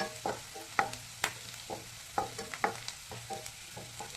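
Ginger fries in a pan for egg burji, a soft steady sizzle under repeated scraping clicks of a spoon stirring, close and fairly quiet with no voices.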